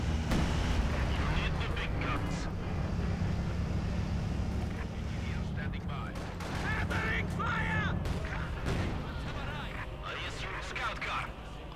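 Artillery and gunfire in Company of Heroes 2, repeated distant booms and cracks under steady rumbling battle noise, with a commentator talking over much of it.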